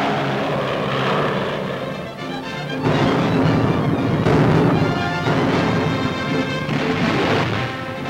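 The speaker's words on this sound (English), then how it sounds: "Long-range bombers join carrier-based planes as Marines and equipment go over the side" WWII long-range bombers and carrier-based planes fly overhead during the Marines' landing on the Solomon Islands, a loud, steady propeller-engine drone that swells midway and continues throughout.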